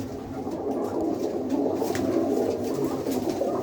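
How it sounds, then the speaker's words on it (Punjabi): Pigeons coo steadily in a low, throaty rolling murmur, several birds overlapping continuously at close range with faint chirps above. "ਇਹ ਕਬੂਤਰੀਆਂ ਕਬੂਤਰ ਸਾਰੇ ਕਬੂਤਰ ਆ"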